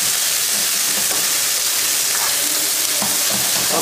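Loud, continuous high-heat sizzle and steam hiss from a wok as spices are stirred into chicken Schezwan, with faint scraping of the utensil against the metal, close and unbroken, no talking.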